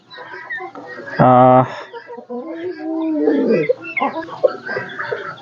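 Serema chickens, a rare small ornamental breed, on a farm: one loud, sharp harmonic call bursts out briefly near the start, with softer clucking and farmyard sounds under a man's speech throughout.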